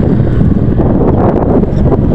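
Steady, loud wind buffeting a microphone outdoors on a seaside mega dike, a continuous low roar with gusty swells and no voices.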